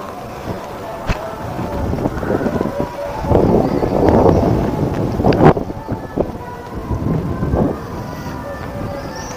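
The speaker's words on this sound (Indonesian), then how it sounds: "Anginnya sepoi-sepoi," A breeze blows outdoors in Ronggojalu, Probolinggo, buffeting the microphone with a fairly loud, uneven rushing that swells in gusts and then eases.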